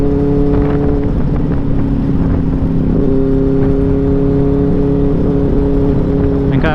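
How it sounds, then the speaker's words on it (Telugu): A group of superbikes with stock exhaust, including Benelli 600i, Kawasaki, BMW and Triumph models, riding together; a loud, continuous engine drone and wind rush fill the recording, with a brief rising rev near the end. "కానీ స్టాక్ ఎగ్జాస్ట్ సౌండ్ మజా వేరే ఉంటుంది,"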